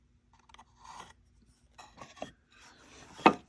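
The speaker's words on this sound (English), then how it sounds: "I'm going to draw 2 lines on either side." Pencil or marker drawing lines on a dry hollow gourd during a ukulele build, heard as a few faint, short scratchy strokes, then a sharper rasping stroke near the end, with no talking.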